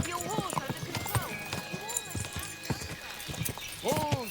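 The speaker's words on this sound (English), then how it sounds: "Don't you know how to keep your horse under control?" Hooves clip-clop steadily on the ground as a horse moves through a medieval town in Kingdom Come: Deliverance II, with people talking over the hoofbeats and a horse whinnying briefly.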